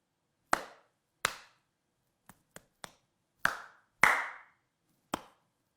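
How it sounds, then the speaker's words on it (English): Hands clap in a sparse, irregular series of sharp, crisp claps, about eight in all, some soft and some louder, alone in a quiet room. "the obvious one is what I just did. It's to clap them."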